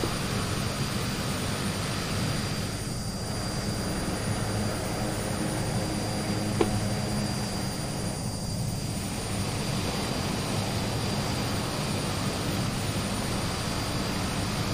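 Turboprop engines of an Aerosoft Twin Otter in Microsoft Flight Simulator, a steady loud roar with a high tonal whine, holding constant during pushback with a faint click partway through and no voices.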